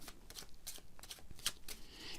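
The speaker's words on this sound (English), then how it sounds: "You take a deck and shuffle it" A deck of playing cards is shuffled close up in several quick riffling bursts, crisp papery flutters separated by brief pauses, quiet and with no talking.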